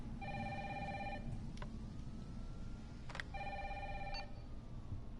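Telephone ringing in the video game Resident Evil 3, two bursts of an electronic double-trill ring separated by a pause, quiet over a low hum, with thuds between rings and no talk.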